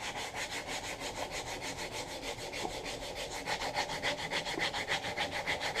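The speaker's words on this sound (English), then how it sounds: "Now I'm going to start the hand sanding." Rhythmic back-and-forth scratching of sandpaper on a wooden knife handle, steady strokes repeating quickly and close up, with no talking.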